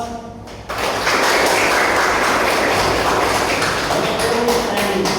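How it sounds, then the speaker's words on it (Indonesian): A classroom of students breaks into applause after a brief pause, a loud, dense burst of clapping that carries on steadily, with a few voices mixed in. "Kasih aplaus."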